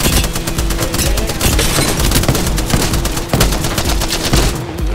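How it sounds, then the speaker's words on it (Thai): Rapid, loud automatic gunfire from the video game Apex Legends, continuous bursts across the whole stretch, dense and close with no voices over it. "เพื่อนเรามันยิงโหดกัน"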